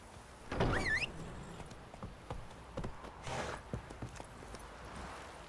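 Roach, a horse in The Witcher 3, sets off with a burst of hoof clatter, a rising whinny-like call, then scattered hoofbeats and thuds of movement in a quiet game scene.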